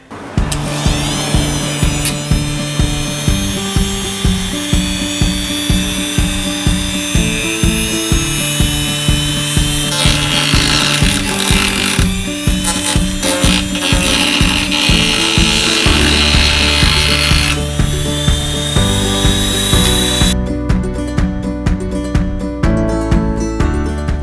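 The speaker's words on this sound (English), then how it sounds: "using a Dremel, I was able to cut a slice down on the side here, and then also on the side here" Dremel rotary tool cutting an aluminum heat shield during a Saturn Sky Ecotec 2.4L turbo build, heard as a loud, continuous high-pitched whine with a steady grinding texture that carries on for over twenty seconds with no talking.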